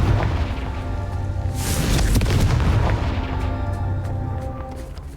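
A Confringo fire spell from the game Hogwarts Legacy bursts with a booming explosion near the middle, set over a low game ambience and sustained tones, fading out after the blast.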